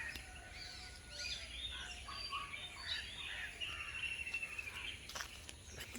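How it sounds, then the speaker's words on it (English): Several birds in jungle-like greenery in Sri Lanka chirp and sing at once in a dense morning chorus, some close and some distant, over a soft background hiss. "Just listen to those birds and stuff."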